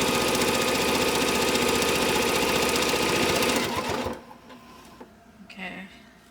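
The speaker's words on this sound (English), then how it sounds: "And I'm going to start sewing." A sewing machine stitches a t-shirt memory pillow in a steady, loud mechanical run for about four seconds, then stops, leaving quiet handling noises and a faint voice.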